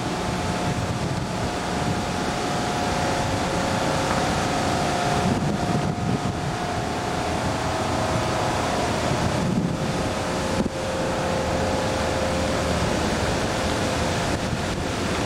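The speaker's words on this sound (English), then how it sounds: "Here's the lock going open." Erie Canal lock gates opening to let water down toward the Mohawk, a steady broadband rush of flowing water and wind buffeting the microphone, continuous and fairly loud throughout.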